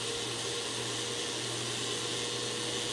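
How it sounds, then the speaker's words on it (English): A blender runs steadily, whirring through a smoothie of frozen fruit and banana, a continuous loud motor drone with a constant hum and no pauses. "it looks like all of the chunks are out and the blender is running smoothly"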